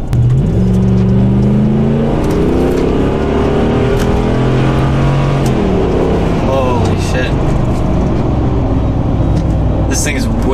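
A 2013 Ram 1500 pickup with a fixed misfire accelerates hard in four-wheel lock, its engine rising in pitch through the gears with a loud, close roar and a brief shift partway through. Someone talks over it at points.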